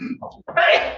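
A single sharp sneeze bursts out near the end of a short stretch in a courtroom, loud and close after a brief quiet gap, with faint voice sounds just before it.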